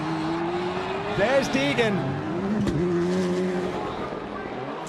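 Rally cars race around a rallycross track at a Global RallyCross Championship round in Charlotte, with engines droning steadily and revving in rising sweeps under a commentator's voice.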